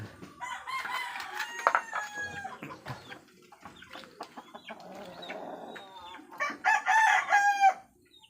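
Roosters and chickens, including a molting brood cock, in a rain-soaked yard after a typhoon crow loudly and cluck in overlapping bursts, with louder crowing near the end.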